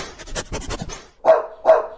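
A puppy in a storybook read-aloud gives two sharp, close yips after a stretch of panting and whimpering.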